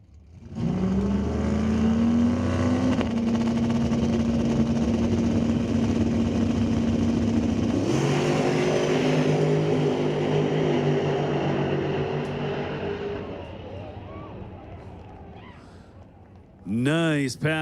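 Drag racing cars roar through an elimination pass at Mission Raceway Park, a loud sustained engine scream holding and rising in pitch before fading into the distance, with a brief second burst near the end.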